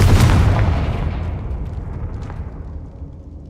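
A Confringo fire blast spell explodes in Hogwarts Legacy, a heavy booming blast right at the start that rolls off into a long, fading rumble.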